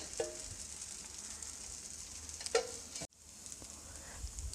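A tomato dosa cooking on a hot pan with a tablespoon of oil, a soft steady hiss of sizzling, faint and close, with a couple of brief clinks before it cuts briefly and resumes.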